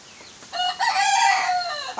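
A rooster crows once, loud and close, its drawn-out call rising and then trailing off, with no voices over it.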